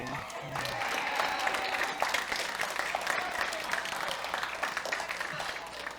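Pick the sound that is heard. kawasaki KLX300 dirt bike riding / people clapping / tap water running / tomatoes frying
people clapping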